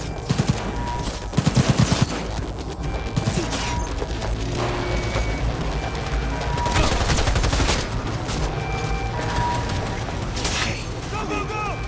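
Rapid gunfire in a video game rattles under a busy soundtrack, with a tight burst of quick shots early on and a steady din of action continuing; a voice speaks briefly.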